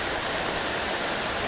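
Splashing water from a city water feature fountain in sunny Valencia, Spain, a steady, loud, dense hiss of falling water heard up close with no other sounds.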